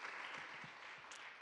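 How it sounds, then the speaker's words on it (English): An audience at a Black History Month business gathering gives a round of applause, steady dense clapping heard faintly and from a distance, with no voices over it. "if we could just give a round of applause for all the businesses that have presented over this Black History Month and to the organizing committee"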